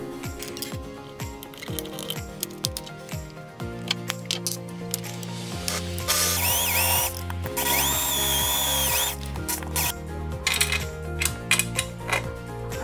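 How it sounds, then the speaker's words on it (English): A power drill bores a hole in a rail for a DIY LED wand light, its motor whining up and speeding in loud bursts, the harsh cutting peaking midway before easing into short pulses and stopping. "to drill a hole."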